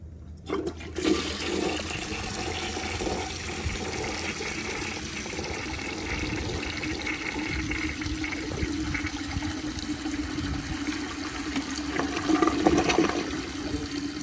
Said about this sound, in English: But the tank is almost full, and here is another flush.